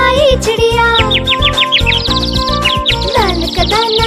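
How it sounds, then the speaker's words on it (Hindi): Quick, high bird chirps and tweets in bursts over bouncy music with a steady beat and singing in a Hindi children's rhyme about a sparrow. "चुन चुन करती आई चिड़िया"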